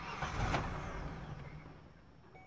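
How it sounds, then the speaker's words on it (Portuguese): A 2018 Chevrolet Prisma with a burnt-out fuel pump cranks and catches, its engine rumbling briefly before fading and dying out, close and alone with no talk. "Ele pega e morre."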